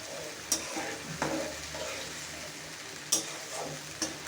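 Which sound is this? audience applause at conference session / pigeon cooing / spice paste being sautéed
spice paste being sautéed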